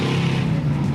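Peterson Chieftain vehicle accelerating on a dirt track, a loud, close, steady engine drone with a low rumble that holds throughout the brief moment, with no talking.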